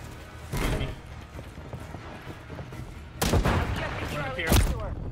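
Gunfire in Call of Duty: Modern Warfare III beta gameplay, a few loud bursts of shots with quieter clatter and thumps between, heard close with a voice speaking briefly in the background.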